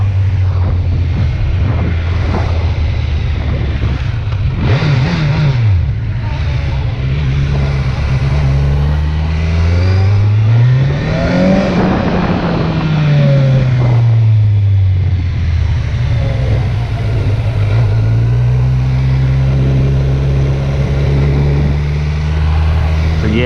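Kawasaki Z900 motorcycle engine on a street ride around the block, loud and close, revving up and down through gears with rising and falling pitch sweeps, then holding a steady cruise.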